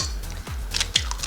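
An egg cracks open and drops into brown butter chocolate chip cookie dough. Two or three close, crisp snapping cracks come in quick succession, followed by soft wet squishes.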